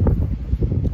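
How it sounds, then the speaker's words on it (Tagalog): Gusty sea wind in the morning buffets the microphone with low rumbling surges, steady and fairly loud throughout. "ramdam ko yung hangin at yung lakas ng alon ngayong umaga."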